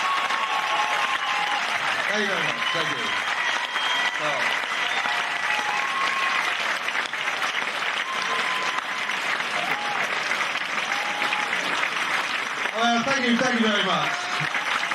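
Audience applauds steadily throughout for the winner of a comedy talent contest final, a dense sustained clatter of clapping with a voice speaking over it near the start and end.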